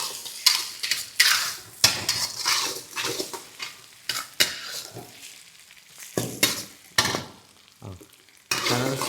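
Ginger garlic paste sizzles and fries in a pan for aloo fry while a spoon stirs and scrapes repeatedly against the metal, loud and close, with hissing bursts between the strokes.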